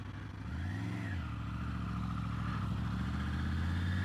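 A motorbike rides along a country road in East Anglia, its engine humming steadily up close, climbing in pitch through an early gear change and then holding an even drone without speech.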